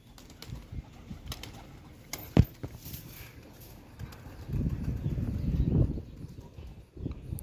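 Pigeons stir in a coop with soft, low cooing and rustling, plus a sharp knock near the middle. The cooing grows fuller and more continuous toward the end.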